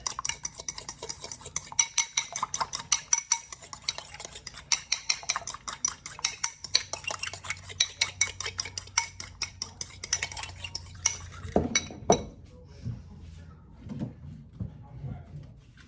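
Spoon scraping and clinking against a bowl while vegan meatloaf ingredients with garlic powder are mixed, a steady run of close clattering taps that stops abruptly near the end, with a little background noise after.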